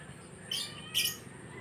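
Two short, high lovebird squawks sound close by in quick succession over a faint background hum.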